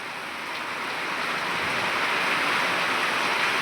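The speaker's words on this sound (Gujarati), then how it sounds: "રાત્રે વરસાદ પડે છે કંથરાવી ગામમાં" Heavy night rain falls on Kantharavi village in Mehsana, Gujarat, a dense, even hiss that swells slightly louder and holds steady throughout.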